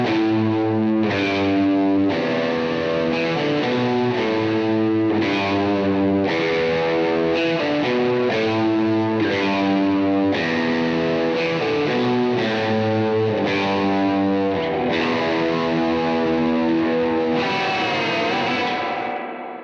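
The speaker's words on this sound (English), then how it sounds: "I was just trying to do like an effecty thing with like a bunch of spring reverb." Electric guitar playing repeated chords drenched in splashy spring reverb and distortion, continuous and loud with no talking.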